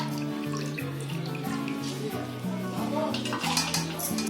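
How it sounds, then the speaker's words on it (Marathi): A mixing bowl is rinsed and washed with water, with clattering and clinking of metal dishes over running or splashing water, close and moderately loud, with no talk. "आता हे पाणी घ्यायचं आणि स्वच्छ धुवून घ्यायची."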